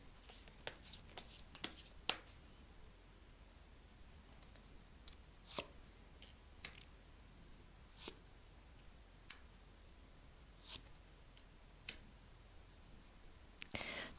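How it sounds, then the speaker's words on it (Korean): Tarot cards being drawn and shuffled, soft crisp flicks and taps spaced irregularly over a quiet background, with occasional sharper snaps of cards. "카드 뽑아 볼게요"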